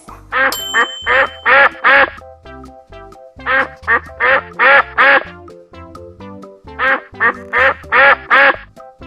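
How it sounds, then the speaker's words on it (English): Ducks quack loudly in quick bursts of four or five, repeated in three groups, with soft chiming tones underneath. "Ducks."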